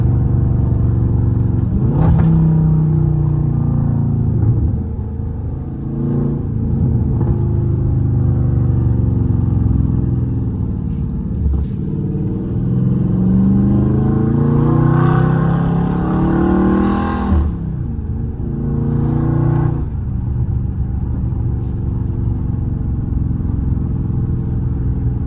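Loud Dodge Charger Scat Pack cruising at night, a deep continuous engine drone with several sharp revving surges and gear-change bursts rising over the steady low rumble, no voices.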